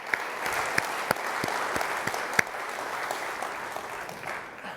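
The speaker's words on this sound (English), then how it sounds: "So another round of applause for our Board of Directors, please." An audience at an annual general meeting applauds the board of directors, giving sustained clapping that fills the room at moderate loudness, with a few sharper claps standing out.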